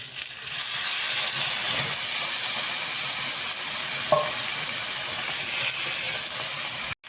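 Green chillies frying in a tempering pan for dhokla hiss and sizzle loudly and steadily after a splash of water goes in, a close, continuous crackle with one brief clink partway through.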